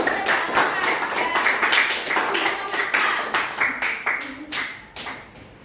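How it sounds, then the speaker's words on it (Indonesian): Classroom clapping for a student group, many children's hands beating in a loose rhythmic pattern that thins out toward the end, with some voices mixed in. "Tepuk tangan untuk kelompok."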